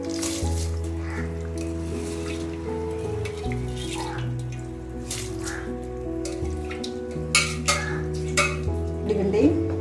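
Chickpea rice stirred in a pressure cooker: a spoon scrapes and clinks against the metal pot over a steady bubbling simmer, with a few sharper knocks toward the end and background music running underneath.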